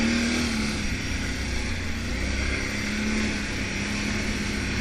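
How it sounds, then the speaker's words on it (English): An ATV engine and exhaust riding a wooded 50-inch trail at Cedar Creek, a steady, close mechanical drone with a faint hum that holds even throughout, with no voices. "One thing about the exhaust on this, it sure sounds awesome"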